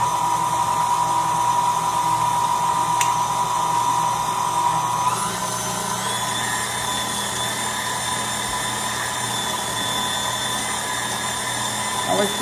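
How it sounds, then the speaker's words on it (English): A KitchenAid stand mixer whirs steadily while beating sweet potato cake batter, a close, continuous motor whine with a shift in pitch partway through as the speed changes. "Never used this KitchenAid before, so She's breaking it in for me, guys. yeah, I'm going to mix it just a little bit."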